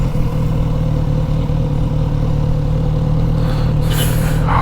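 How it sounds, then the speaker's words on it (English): A Kawasaki Z900RS motorcycle engine runs steadily and close by with a constant low mechanical drone, brief hissing bursts rising near the end. "Oh yes, the Kawasaki Z900RS."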